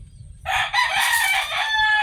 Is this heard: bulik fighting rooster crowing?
yes